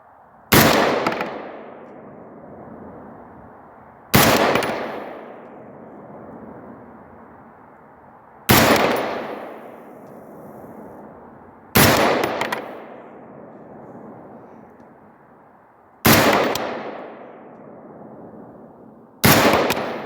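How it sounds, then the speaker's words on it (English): Gunshots from a rifle fitted with a Holosun 503G ACSS sight, fired at steel plates; six loud, sharp reports come several seconds apart, each followed by a ringing, decaying tail. "Let's just shoot them all, because I do have those steel little plates underneath"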